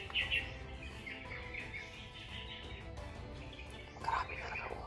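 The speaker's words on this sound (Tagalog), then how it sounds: "Maraming uwak mga tol." Crows calling overhead from the open sky, scattered harsh chirping calls at a moderate distance over a steady background hiss, a louder burst near the end.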